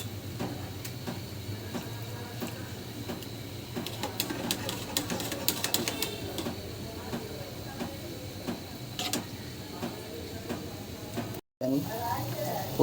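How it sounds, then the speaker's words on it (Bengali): Papaya curry boils vigorously in a pot, a steady bubbling sizzle with scattered pops and clinks running close and continuous, broken by a brief dropout near the end. "প্রচুর পরিমাণে বলক উঠছে"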